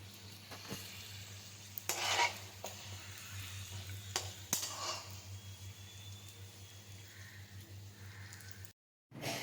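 Food frying in a pan at home, a close, steady sizzle with clinks of a utensil against metal and a few louder scraping stirs, no one speaking.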